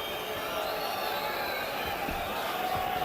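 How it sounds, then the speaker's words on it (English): Boxing arena crowd reacting to the fighters, a dense continuous roar of many voices heard from a distance, steady and unbroken, with no distinct claps or cheers standing out. "And the crowd lets the fighters know how they feel."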